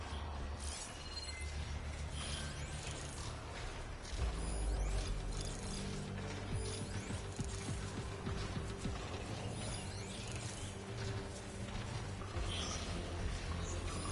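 Robotic machines in Horizon Forbidden West move about with a steady whirring, clanking mechanical churn under a low droning bed, continuous and fairly close throughout.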